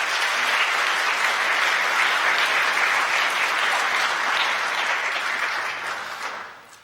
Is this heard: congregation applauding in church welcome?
yes